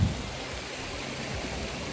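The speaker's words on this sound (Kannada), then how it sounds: "ನೀರು ಹರ್ಕೊ ಬರ್ತಾ ಇದೆ" Stream water flows steadily along a trek route in the Western Ghats, a continuous close rushing wash with no voices over it.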